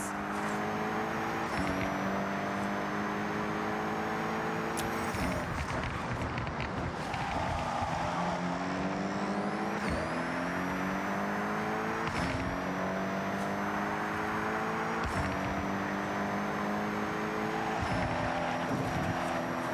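A prototype car's engine in Forza Horizon drones continuously, revving up through gears with repeated rising sweeps and brief shift breaks, loud and close with faint road and ambient noise beneath.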